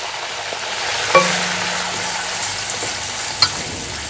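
Garlic-ginger paste frying with onions and spices: a constant loud sizzle with two sharp clinks of utensil on pan, close by and alone.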